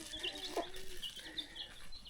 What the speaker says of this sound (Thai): โอ้ยนี่ไก่กำลังมา